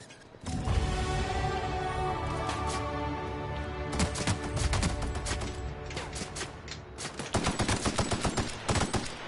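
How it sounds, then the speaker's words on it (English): Assault rifle fire in The Outer Worlds video game, loud, near bursts of automatic shots running almost nonstop, with sharper clusters of rapid shots toward the end and mechanical clatter underneath. "I'm just gonna get my newfangled assault rifle out."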